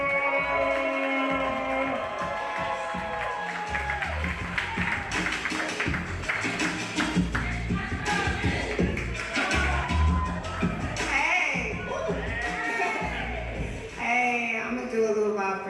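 Open mic night crowd clapping and cheering as the next artist is introduced at a café, steady applause under music and a host's voice.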